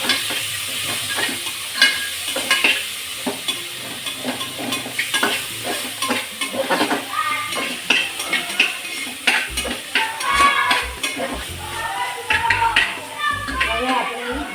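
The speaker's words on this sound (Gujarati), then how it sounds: "ધીમા તાપે આપણે હલાવીશું." Masala khichadi stirred in a pot over a low flame, a spoon scraping and clinking against the pan amid soft sizzling, with voices and children talking in the background.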